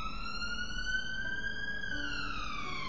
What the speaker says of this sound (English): without the screeching of the police cars going past